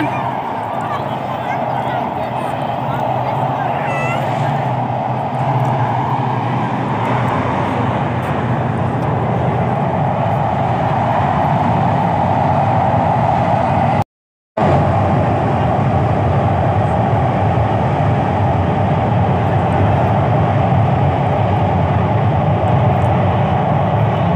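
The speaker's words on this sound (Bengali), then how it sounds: "পদ্মা সেতুর নিচ দিয়ে ট্রেন যাচ্ছে।" A train rumbles past beneath the Padma Bridge at its Jajira end, a loud, sustained low roar with a steady droning tone that runs almost the whole time, broken only by a brief cut.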